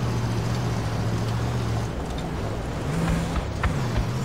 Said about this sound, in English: We got a car to our south.